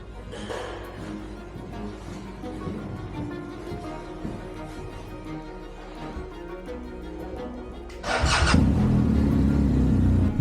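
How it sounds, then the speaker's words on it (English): A motorcycle engine idles with a low, steady rumble, then revs up louder near the end, close by. "the engine was purring"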